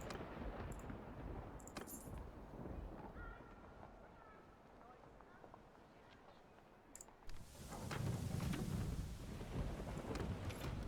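A thunderstorm at sea while sailing in Mount & Blade 2: Bannerlord, with steady rain and wind under rolling thunder that swells into a heavy rumbling surge near the end, along with brief clinks and game effects.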